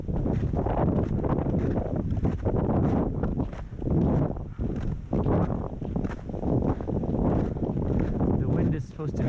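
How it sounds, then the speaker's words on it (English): Wind buffeting the microphone along snowy Mazama Ridge on a snowshoe route to Reflection Lake, a constant loud rumbling roar with gusts and someone talking over it. "The wind is supposed to be a factor"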